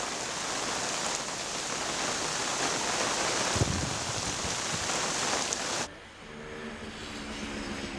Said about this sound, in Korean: 흩뿌리는 비가 아니라 제대로 내리는 비다. 하루 동안 80mm 이상의 많은 비에 도랑은 빗물이 가득하다.